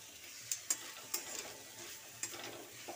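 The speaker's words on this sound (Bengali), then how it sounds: "ঘন ঘন নাড়তে হবে, না হলে কিন্তু আটকে যাবে।" A spoon stirs a sticky coconut and date jaggery mixture in a pan, making soft scraping strokes with a few sharp ticks against the metal over a faint sizzle, close and quiet, with no voices.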